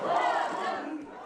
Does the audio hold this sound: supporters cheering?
yes